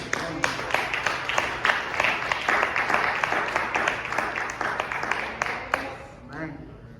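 A church congregation claps together in a sustained round of applause, dense sharp claps filling the room for about six seconds before quickly dying away.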